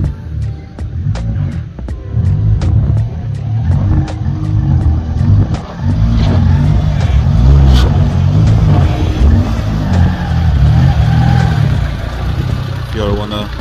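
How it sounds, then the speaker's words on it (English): A turbocharged Mitsubishi Lancer with a 4G15 MIVEC engine rumbles loudly and steadily as it pulls up, with sharp clicks and pops over the deep engine note, close by, while people talk. "when you see this Lancer pull up, it's business"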